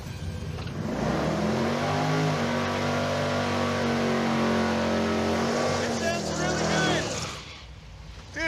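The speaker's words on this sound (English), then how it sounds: "I predict a very, very rowdy burnout out of Mr. Freiburger right now" A 1969 Chevy Suburban does a burnout at a drag strip, its engine roaring loud and sustained for several seconds with rising revs and tire noise, then cutting off; a voice is faintly present.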